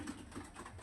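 Pigeons kept in a loft coo softly, a couple of low, faint coos in under a second against a dim background murmur.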